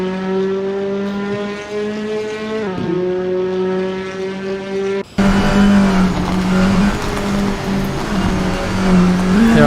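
TCR touring race car engines in a sim racing game at the Tor Poznan circuit, with sustained high revs and gear-change pitch drops. A second car joins partway through, making the sound louder and rougher without any voices.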